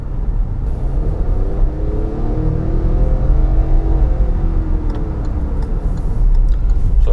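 Raspy engine note of a Hyundai Venue with a 1-liter engine, revving steadily and loudly as the car accelerates, with faint ticking over the continuous drone.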